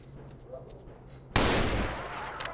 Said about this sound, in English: he was shooting through the goddamn wall